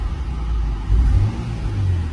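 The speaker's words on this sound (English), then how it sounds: "Little bit misfiring." A Toyota Supra engine runs nearby, showing a low, uneven rumble with a couple of brief rises in pitch and small stumbles in its steady drone.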